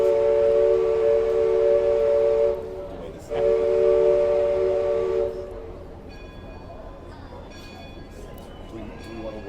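At Disneyland, a passing train sounds its whistle in two loud, sustained blasts split by a short gap, then rumbles on more quietly with a faint ringing tone and crowd murmur under it.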